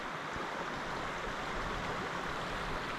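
Water flows along Fox Creek in a continuous, close, even rushing wash with no voices.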